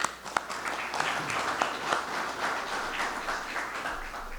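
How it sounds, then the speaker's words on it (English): Moderate audience applause at a Florida agriculture bill signing with Governor DeSantis, a few sharp early claps then steady clapping from a room of people, fairly distant. "Give yourselves a round of applause on that."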